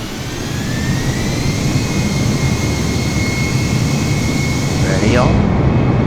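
Steady roar of an airliner's jet engines in Microsoft Flight Simulator 2020, loud and continuous with a rising whine layered over the rumble, and a brief sweeping tone near the end.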